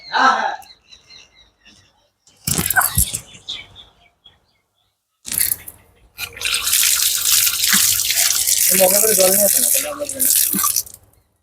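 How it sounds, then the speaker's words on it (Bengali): Hands are washed under running tap water, a steady rushing stream that swells loud near the end, with bursts of splashing earlier and voices talking around it. "এটা হাত ধোবো এখানে"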